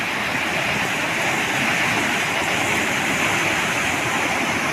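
Water rushes through a swollen drainage stream after heavy rain beside rural farmland, a dense, even, continuous hiss and roar heard up close with no talking.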